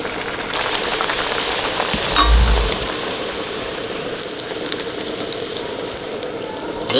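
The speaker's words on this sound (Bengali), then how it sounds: "লুচি ভাজবো তেল দিয়ে দিচ্ছি সাদা তেল" Luchi deep-frying in hot white oil gives a steady, dense crackling sizzle, close and fairly loud, with a brief swell near the start and no voices.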